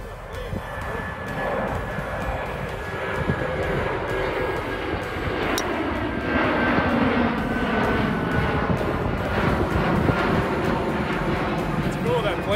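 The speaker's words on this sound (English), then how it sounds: "you get plane after plane after plane running along the first 4 holes perpendicular to your shots" A fixed-wing airliner flies low over a seaside golf course beside the airport in Muscat, Oman, its broad engine roar steady and loud throughout, with people talking underneath.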